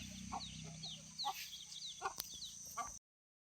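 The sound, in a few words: free-range chickens clucking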